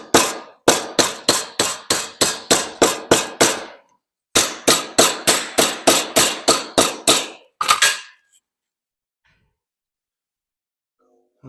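A hammer strikes car body sheet metal on an improvised anvil built from a Volkswagen engine stand: two loud, steady runs of about nine ringing blows each, then two final hits, followed by silence.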